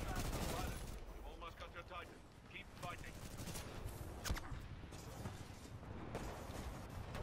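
Rapid automatic gunfire from the video game Titanfall 2 rattles in dense bursts, with louder single cracks cutting through and players' voices talking underneath.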